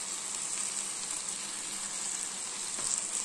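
Vegetable fried rice frying in a pan gives off a steady, close sizzle that holds evenly throughout, with no talking.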